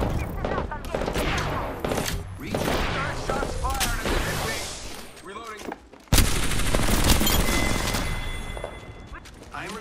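Rapid bursts of Apex Legends gunfire crack and rattle close by, mixed with explosions and reload clatter, while game voices call out over the shooting.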